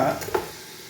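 Green chillies dropped into a pan of country chicken curry: a short hot sizzle with stirring scrapes at the start, then a quieter, fading fry, heard close up.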